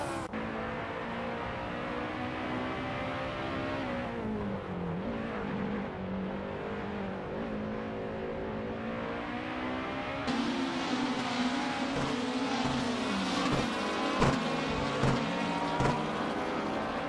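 Race cars from a racing video game howling around a track, several engines rising and falling in pitch through shifts and corners, loud and continuous, with no voices.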